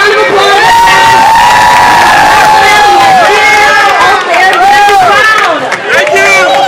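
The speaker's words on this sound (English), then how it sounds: "Celebrate a round of applause." A festival crowd at a parade of flags cheers loudly and continuously, with shouts, children's voices and babble filling the air close around, and a voice rising over the din.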